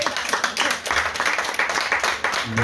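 Applause from a conference audience, dense overlapping claps sustained across the whole stretch, fairly close and even, with a hint of a voice near the end.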